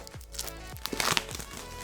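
Plastic wrap crinkling and tearing as a Thelma & Louise steelbook Blu-ray is unwrapped, close and moderately loud with a few sharp crackles.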